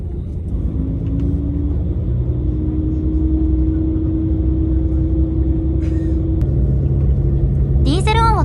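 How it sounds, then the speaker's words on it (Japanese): The diesel engine of the JR Kyushu Kanpachi Ichiroku sightseeing train drones steadily as it pulls away from Kurume Station, a loud close rumble with a faint rising whine at the end. "ディーゼル音を轟かせて久留米駅を出発しました。"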